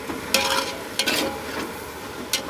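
Onion flatbread (kanda poli) cooking on a hot pan at a roadside breakfast stop, giving a soft steady sizzle with a few brief scraping or stirring clatters scattered through.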